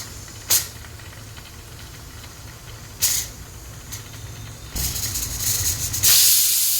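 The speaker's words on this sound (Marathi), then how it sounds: "कुकरची शिट्टी झालेली आहे मैत्रिणींनो" A pressure cooker on a gas stove hisses in short bursts of steam, then gives a longer, louder release building to a strong whistle-like gush at the end.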